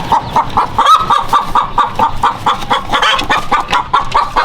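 Black Australorp hens cluck steadily after laying eggs, a close, loud run of repeated clucks and cackles with no talking.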